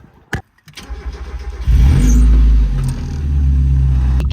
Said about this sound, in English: I gotta start my car.